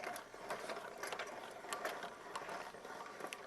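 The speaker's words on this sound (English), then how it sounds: "Now, once we've got that done, simple as cranking it this up." A Proline Lift King truck bed lift is hand-cranked up, giving a close, continuous ratcheting clatter of gears and pawl at a steady rhythm, fairly quiet and without speech.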